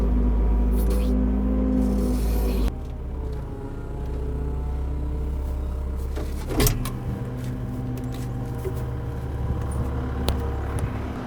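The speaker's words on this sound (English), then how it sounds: "We're gonna grab the log. I'm gonna put the forks in narrow because we're gonna fit between the bunks." Telehandler lifting a butternut log with its forks, a loud low diesel engine drone that drops in pitch after a few seconds, then steady idling rumble with a sharp metallic clunk midway.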